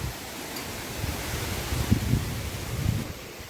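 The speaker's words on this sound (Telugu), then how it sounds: "గాలి చూసారు ఎలా వస్తుందో" Wind gusting across a banana plantation, a steady broad whoosh with buffeting rumbles against the microphone and faint rustling, with no voices.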